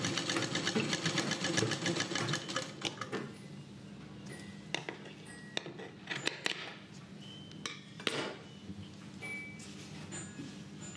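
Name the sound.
sewing machine stitching a Kalash saree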